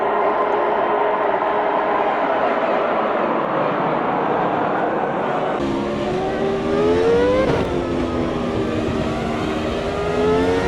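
Toyota Formula One car from a 2002 US Grand Prix racing video game, its engine droning loudly and steadily with rising and falling gear-change harmonics, continuous throughout with no talk.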